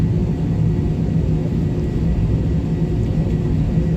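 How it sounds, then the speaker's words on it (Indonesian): A passenger airplane taxis along the runway before takeoff on a Sorong to Makassar flight, heard as a steady, loud low engine rumble and whir from inside the cabin. "pesawat sudah mulai berjalan di runway untuk persiapan take off"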